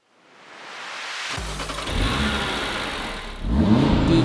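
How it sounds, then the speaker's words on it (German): A Cupra Formentor VZ5's five-cylinder engine fires up and roars, deep and raspy, swelling in two revving surges over a rumbling idle; loud and close. "Die Klangkulisse ist charakteristisch für einen Fünfender, bassig, rau und herrlich laut"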